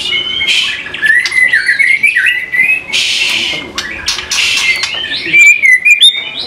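A pet blorok split panda bird chirps and squawks close to the microphone, loud shrill whistles and harsh squawks in rapid irregular bursts, with no talk over them.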